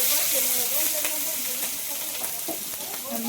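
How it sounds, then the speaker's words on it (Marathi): Black masala and turmeric sautéing in a hot pan, a steady close sizzle of frying spices with faint stirring scrapes running throughout. "मसाला हळद आणि जो आपण वाटण घेतलेला काळा मसाला ते टाकून आणि चांगलं त्याला परतून घ्यायचं आपल्याला."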